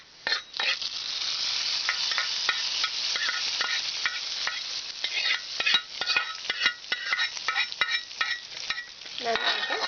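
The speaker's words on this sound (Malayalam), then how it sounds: "ഇനി കടുക് തളിച്ച് നമുക്ക് കിച്ചടിയിലേക്ക് ഒഴിച്ചു കൊടുക്കാം" Mustard seed tempering sizzles as it is poured into Kerala-style beetroot pachadi. The frying hiss runs nearly throughout, with stirring and clinks of a utensil against the pot, and the crackle comes in bursts toward the end.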